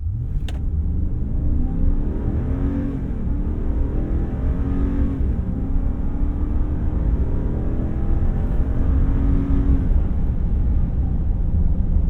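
A 2024 Ram 2500 Rebel pickup's 6.4L HEMI V8 revs hard and accelerates under full throttle, its deep drone climbing steadily in pitch.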